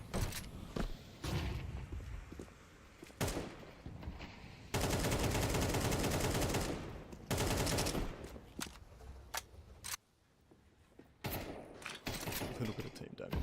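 Grenade, incendiary and other utility blasts go off in Counter-Strike 2 during a CEGC 2025 LAN match between ARISE and NEMESIS ASIA, with sharp repeated bangs, a sustained roaring burst and scattered thuds under steady commentary.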